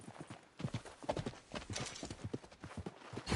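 A horse trots in the video game Red Dead Redemption 2, its hooves clip-clopping in a quick, uneven rhythm close by, with faint ambient noise and no clear talking.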